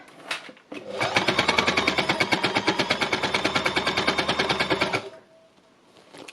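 An embellishing machine punches its needles into fabric with a fast, even mechanical chatter that runs for about four seconds and then stops, close and clear with no talking.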